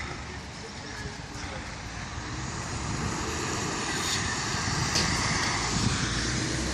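Steady broadband road and engine rumble from inside a Mercedes minibus driving through rainy mountains in the Carpathians, continuous and fairly loud with no voices.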